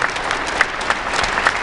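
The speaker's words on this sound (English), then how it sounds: "it deserves a huge hand of applause for Dexter Jackson" A crowd at a bodybuilding showcase applauds bodybuilder Dexter Jackson, a short burst of dense, even clapping with a few louder claps standing out.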